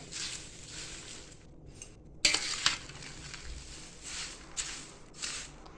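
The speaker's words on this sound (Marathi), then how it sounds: "छानपैकी हा चिवडा आता आपल्याला मिक्स करून घ्यायचा आहे" Poha chivda is stirred in a pan to coat it with its tempering. Close, dry scraping and rustling strokes come in intermittent bursts, with a few sharper clinks of the spoon against the pan.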